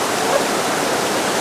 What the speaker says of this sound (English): He awoke to rushing water and Finnegan's frantic barks.